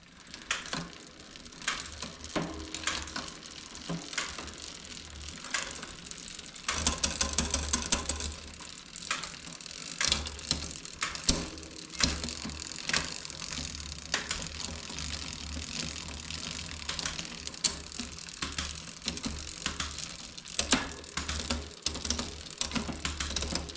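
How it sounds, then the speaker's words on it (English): A bicycle's brake or gear cable barrel adjuster is turned clockwise by hand, giving scattered small ratcheting clicks amid light handling and mechanical rattles, close and fairly quiet, with no talking. "So we will turn the barrel adjuster 2 clicks clockwise."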